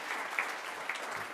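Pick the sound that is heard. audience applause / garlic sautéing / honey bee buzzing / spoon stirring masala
audience applause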